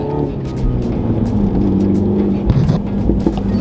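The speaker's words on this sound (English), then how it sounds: "Spun my way through first and second there." Mini Cooper accelerating hard from a red light with wheel spin through first and second gear, a loud close engine roar rising in pitch, heard from inside the car.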